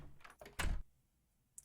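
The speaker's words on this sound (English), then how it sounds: "Then, open the door." A door opens in Terraria, a short soft creak and clunk, followed by quiet and a faint tick at the end.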